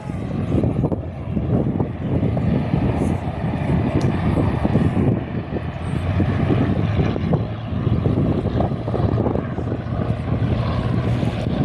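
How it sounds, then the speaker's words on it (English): A Cessna 404 Titan twin-engine aircraft taxiing out for takeoff on a windy day, a loud steady propeller-engine drone mixed with heavy wind rumble on the microphone throughout. "Cessna 404 maybe? I'm just going to go with that 404 Titan. He's taxiing out for takeoff."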